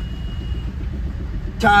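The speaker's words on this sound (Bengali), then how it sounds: "বড় বড় সব পাইপের লরির জ্যাম রাস্তায়" Road traffic stuck in a jam of lorries hauling huge pipes near Taki in the Sundarbans: a steady low engine rumble of idling vehicles, with a brief brighter burst at the end.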